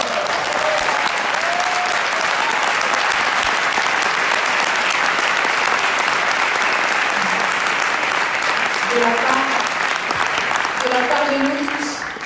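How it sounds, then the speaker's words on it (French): Sustained, dense applause fills a theatre, loud and unbroken from a large audience, with scattered voices and faint calls rising over the clapping. "Vous pouvez vous applaudir."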